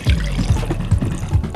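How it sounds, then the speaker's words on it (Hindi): Water is poured into a container during a classroom surface-tension experiment: a brief, close run of gurgling splashes with small irregular bursts. "ये रहा पानी, इसमें डाल दो"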